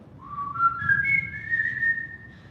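A clear whistled melody from a song from the 1948 film Nosotros los Pobres, rising in one sustained bright phrase, close and alone over a soft low background.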